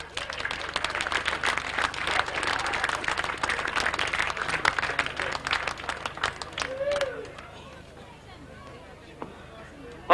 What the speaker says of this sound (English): hopefully a big round of applause for our second place finisher